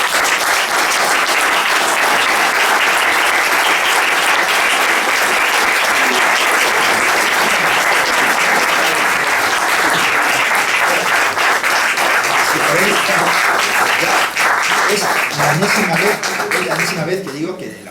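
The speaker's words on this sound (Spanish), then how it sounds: "la falange nos aplaude" A Falange rally audience breaks into loud, sustained applause, a dense roar of clapping that fills the room for many seconds before beginning to thin out toward the end.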